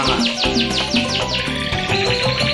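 A caged canary at a home breeding setup sings close by in quick repeated chirps and trills, a continuous bright sequence with no talking.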